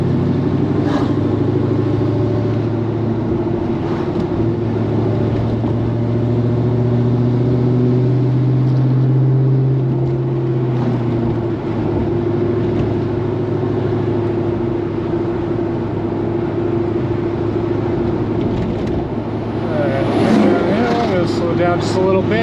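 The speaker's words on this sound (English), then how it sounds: "Just going very slow, easing on the brakes, just trying to get them warm" A Pontiac GTO with newly installed Wilwood big brakes rolls along slowly, its engine a steady low drone with gentle pitch shifts as speed eases off and picks up, cabin hum constant, talk heard over the engine.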